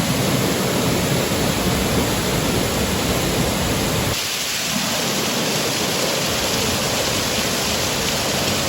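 A waterfall in Mindoro with a natural rock water slide gives a loud, constant, close-up roar of rushing water that stays unbroken throughout, its tone thinning slightly partway through, with no voices.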